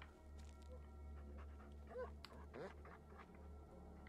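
In the Blair Witch video game, a dog pants and lets out small whimpering sounds close by, soft and rhythmic over a low steady hum.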